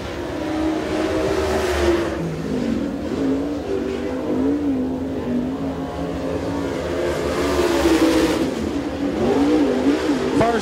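Super late model race cars out on the track for qualifying at Smoky Mountain Speedway, engines roaring steadily and rising and falling in pitch as they pass, loud and continuous throughout with a faint voice underneath.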